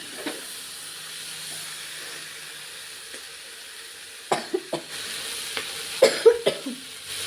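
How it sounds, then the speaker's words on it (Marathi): Someone coughs in a few sharp clusters while cooking khichdi, the coughs standing out close and loud over a faint, steady kitchen hiss. "पाहू शकता मला किती ठसका येत आहे"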